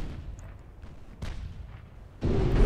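Torpedo hits exploding against a light cruiser in the naval battle game Ultimate Admiral: Dreadnoughts: a low rumbling boom swells at the midpoint, then a second, louder blast erupts near the end and holds, with no voices.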